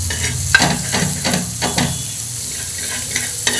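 Egg masala frying on a tawa, with masala, tomato sauce and salt, sizzles steadily close by while a spatula scrapes and stirs in repeated strokes, with no talking.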